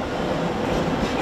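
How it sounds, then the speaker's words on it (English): A train arrives at a Ukrainian railway station with a dense, steady rumble and roar, broad and fairly loud throughout, with no voices. "Waiting for the train to arrive and the war to end."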